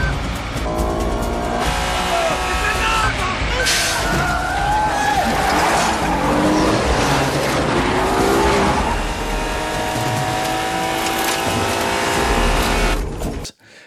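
A movie car chase roars past loudly, with engines revving hard and tires squealing in long drawn-out screeches over a dense, continuous rush of traffic noise, fading abruptly at the end.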